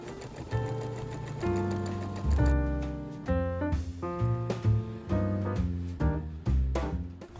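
A sewing machine stitching bum roll tape onto fabric along a frayed edge, running in short mechanical bursts of rhythmic whirring with brief pauses between runs, close and fairly loud.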